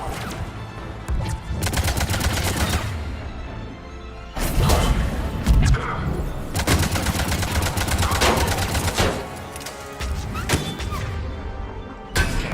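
Loud gunfire in Mass Effect 3 crackles in dense bursts and rapid volleys, separated by short pauses, with heavy thuds mixed into the combat.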